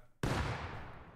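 A bomb blast in a Rust minigame: one sudden loud broadband explosion that hits hard and then rumbles and decays over about a second, with no talk.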